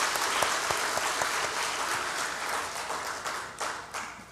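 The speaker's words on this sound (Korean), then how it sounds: "서로 박수하겠습니다." A church congregation bursts into applause for one another, a full, lively clapping that swells early and gradually thins out over a few seconds.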